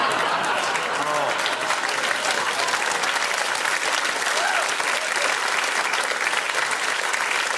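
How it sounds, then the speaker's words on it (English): Audience applause fills the whole stretch as a dense, loud, steady clapping from a live crowd, without breaks. "stop clapping. People at home are going to know that wasn't worth that much applause"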